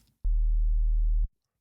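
A synthesizer sub bass note with the oscillator dropped two octaves sounds as a single deep, smooth, steady hum lasting about a second, with sharp clicks at its start and end.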